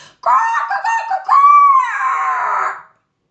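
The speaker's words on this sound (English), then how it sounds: "the rooster stood on a fence and crowed as hard as he could" A rooster crows loudly and close by, one long strained call that rises and trails off, with no other sounds around it.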